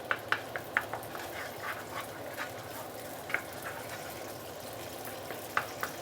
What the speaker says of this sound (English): Let's saute the bean paste for a while.